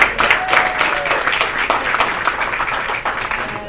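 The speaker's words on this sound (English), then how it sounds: "Congratulations, one more time, round of applause for our real Honolulu champion." An audience applauds a school champion at a board of education meeting, steady dense clapping throughout with a few voices mixed in.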